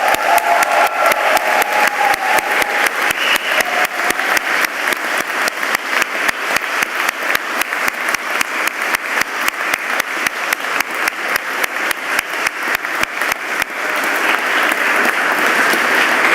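Loud, continuous applause from a large crowd at a graduation ceremony, dense and steady clapping that carries on for a long stretch without talking.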